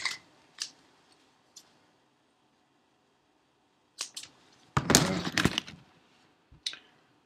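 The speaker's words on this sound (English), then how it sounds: "Cut the excess off." Scissors snip off excess string while an Estes Viking model rocket is being built: a few light, isolated clicks, then a short, louder flurry of cutting, heard close and otherwise quiet.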